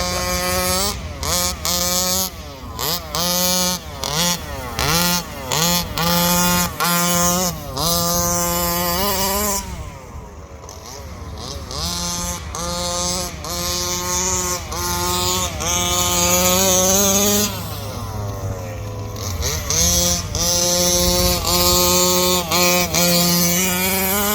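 Rovan Baja 5T 36cc gas-powered RC car screaming at full throttle, a loud buzzing two-stroke whine that rises and falls repeatedly through revving bursts, with a brief drop to idle and then more sustained high-pitched runs.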